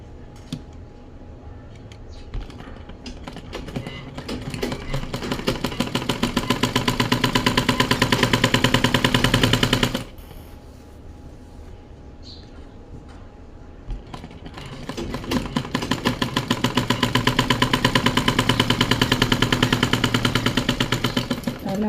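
A sewing machine stitches a blouse side seam in two long runs of rapid, even clattering, each ramping up to full speed, with a brief quieter pause between them.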